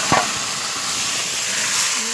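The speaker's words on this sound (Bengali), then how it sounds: "আমি মাছগুলো দিয়ে এই দেখো ভেজে নিচ্ছি। এই যে জাস্ট মানে তেলে এগুলোকে ভেজে নিচ্ছি।" Fish fry in hot oil with a steady, even sizzling hiss, close and continuous, with a faint knock at the start.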